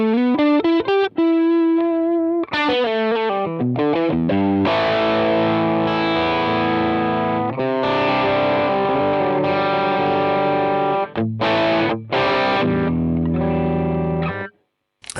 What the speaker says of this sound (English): let's just listen to something like a Zen drive